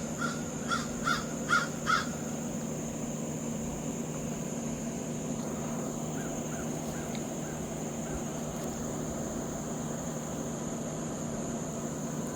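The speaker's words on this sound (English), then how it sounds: "The birds are out." A crow caws several times in quick succession near the start in a garden, then fainter bird calls follow over a steady background hum.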